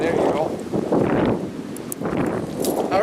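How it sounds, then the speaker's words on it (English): Strong 30-mph wind gusts buffet the microphone at a lake, surging in broad loud roaring waves with brief lulls between them. "Right now we got 30-mile-an-hour wind gusts"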